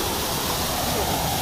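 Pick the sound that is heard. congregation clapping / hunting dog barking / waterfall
waterfall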